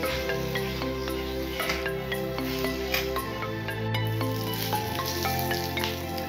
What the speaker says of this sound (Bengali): সবকিছু দেওয়ার পর মাশরুমের সাথে মশলাগুলো ভালো করে মিশিয়ে নেবেন